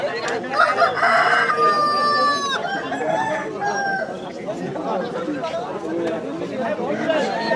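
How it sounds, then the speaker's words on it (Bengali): Roosters at a cockfight in the Sundarbans crow and cluck amid a busy crowd, with people talking and chattering nearby throughout. "সুন্দরবনের একটা ফেমাস খেলা মুরগি লড়াই"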